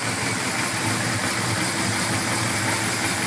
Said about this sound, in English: the clack has gone away, but we've created an intermittent tick